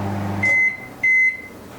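Two sharp electronic beeps from a microwave oven's control panel as buttons are pressed, each about a quarter second long, steady and clear against low background hum.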